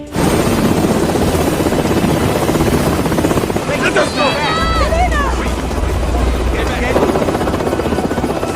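A loud, steady military helicopter rotor drone fills a film scene above a church in the jungle, with a voice speaking over it and a brief musical swell midway.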